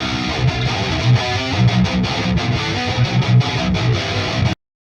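A distorted electric guitar plays a chugging riff with rhythmic accented notes, loud and up close, stopping abruptly at the end.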